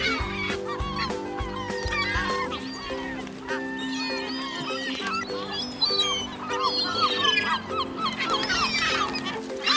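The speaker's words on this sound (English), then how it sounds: "At the lake, the birds swarm with excitement when Behrouz feeds them" Lakeside waterfowl swarm during a bread feeding, a dense chorus of honking, quacking and squawking calls overlapping continuously from many birds close by.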